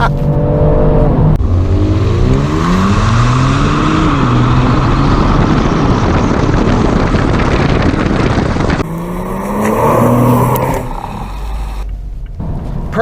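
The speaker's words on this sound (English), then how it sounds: "Even things like the exhaust note are adjustable, and yes, it sounds as good as it should" A 2019 Genesis G70 pulls hard while driving, its engine and exhaust note climbing through rising revs with gear changes, loud and close, then briefly easing before revving again.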